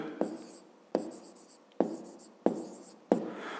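Pen or chalk writing by hand while working a math problem, five distinct strokes at roughly even intervals, each a sharp tap fading into a scratchy drag, close and clear.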